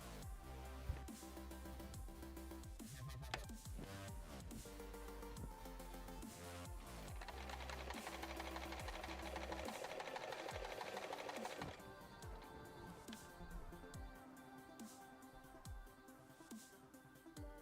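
A sewing machine runs a zigzag stitch, a steady, busy mechanical whir with a rhythmic needle pulse throughout, shifting in speed partway and fairly quiet overall.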